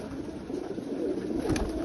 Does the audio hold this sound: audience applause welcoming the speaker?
no